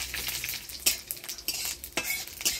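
Dried chilli, bay leaf, ginger and panch phoron fry in hot oil for a dal tempering, a steady crackling sizzle broken by a few sharp clinks and stirring scrapes, close and without voices.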